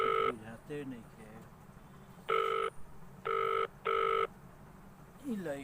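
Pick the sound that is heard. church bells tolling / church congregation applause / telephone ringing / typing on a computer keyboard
telephone ringing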